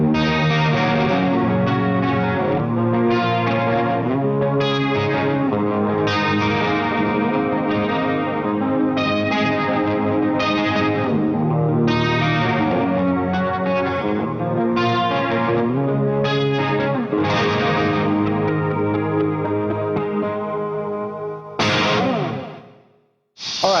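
Electric guitar played through a Rocktron Reaction chorus effect pedal, a continuous shimmering, doubled chorus tone over strummed chords and notes, loud and close, ending with a sudden stop and a brief noise.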